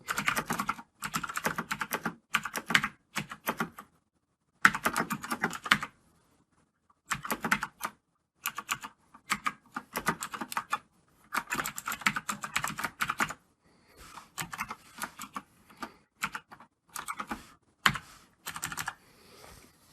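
Rapid keystrokes clatter on a computer keyboard while code is typed, close and crisp, in bursts of quick tapping separated by short silent pauses.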